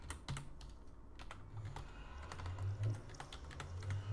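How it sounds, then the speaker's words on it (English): Keys are tapped on a calculator, a quiet series of light, close clicks in an uneven rhythm over faint background hum, no talking. "we're going to type in -10 on our calculator"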